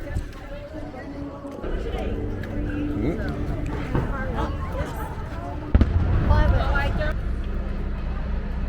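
Fireworks burst near the Disney monorail and bus stop, steady popping and crackling booms with one louder hit, heard outdoors amid crowd noise and nearby talking.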